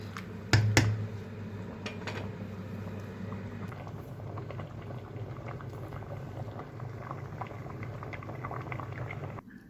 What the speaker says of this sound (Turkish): Makarnamız da öbür tarafta haşlanıyor arkadaşlar.